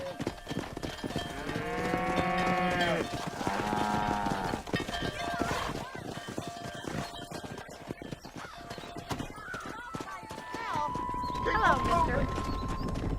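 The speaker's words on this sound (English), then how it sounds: "Herd the cows down the road" Cattle are driven down a road in the video game Red Dead Redemption, with hoof clip-clop, horse snorts and cow lowing mixed with game music and character voices.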